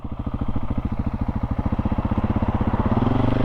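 A KTM 690 SMC-R single-cylinder motorcycle engine pulls hard under load, a close, fast, throbbing exhaust pulse that climbs steadily in pitch as it revs through a gear change.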